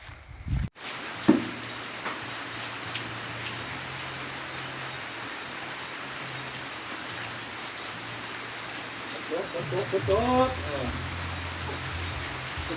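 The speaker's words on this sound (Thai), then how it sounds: "ฝนตกเลยพี่น้องฝนตกแล้ววันนี้" Steady rain pours down outdoors as a constant hiss across the whole stretch, with a few louder scattered drops and brief voices and noises near the start and end.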